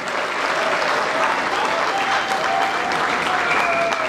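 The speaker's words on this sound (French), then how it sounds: "S'il vous plaît, applaudissez très fort pour lui." A crowd applauds a guest at a wedding celebration in Kinshasa, steady dense clapping throughout at full loudness, with a faint sustained tone running underneath.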